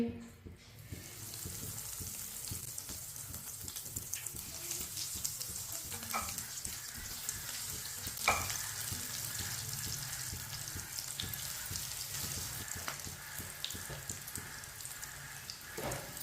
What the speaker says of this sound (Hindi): कबाब को 2 मिनट के लिए फ्राई होने देते हैं